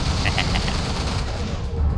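Explosions from a destroyed missile turret in the Everspace space game roar as a loud, continuous rumbling blast with dense crackling fire, no pauses between bursts.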